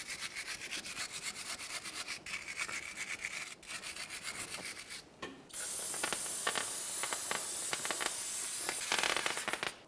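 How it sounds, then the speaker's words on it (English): Wire brush scrubbing a brake caliper on a 1999-2006 Chevrolet Silverado 1500, rapid rhythmic rasping strokes close up, then a long, loud hiss of parts cleaner spray with brushing strokes continuing through it; no talk. "Use a wire brush and some parts cleaner."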